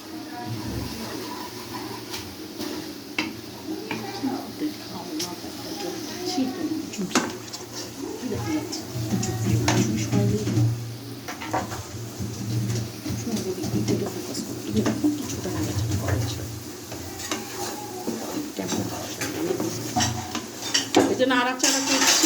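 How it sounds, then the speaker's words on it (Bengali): An onion, egg and green chilli mixture is stirred in a pan, with repeated metal clinks and scrapes of a utensil against cookware over a low background hum, close and continuous. "এই যে নাড়াচাড়া করছি"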